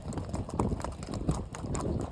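Hooves of gaited Icelandic horses clip-clop over ground while a loose herd is driven, a soft, continuous, uneven patter of steps at moderate distance with no voices.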